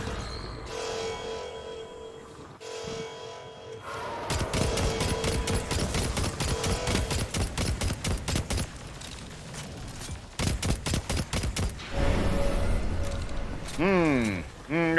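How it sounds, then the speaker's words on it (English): Dense video game gunfire from a round of Destiny 2's Gambit mode: sustained rapid automatic bursts with brief gaps, loud and close, mixed with game effects and a player's voice talking over it. "I'm gonna keep shooting the people."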